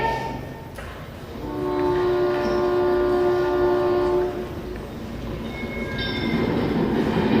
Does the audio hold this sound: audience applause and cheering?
no